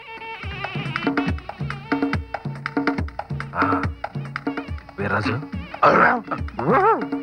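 A dog barks repeatedly in a quick, steady rhythm, loud and close, breaking into higher whimpering yips toward the end.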